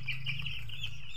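Eight-day-old chicks on a poultry farm cluck and peep continuously in a short, steady stretch, close and fairly quiet over a low hum.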